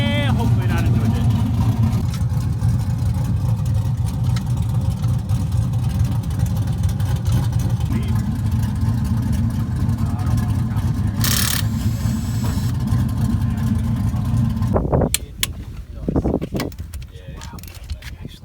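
Chevrolet F-body cars drifting at a private compound, a loud sustained engine roar with revving held steady for about fifteen seconds before it drops off abruptly, followed by quieter mixed noise and faint voices.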